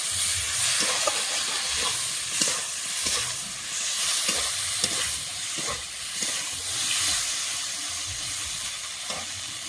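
Ginger and green chilli paste masala fries in a pan with a constant loud sizzle, punctuated by regular scraping strokes of a stirring spatula, with no voices.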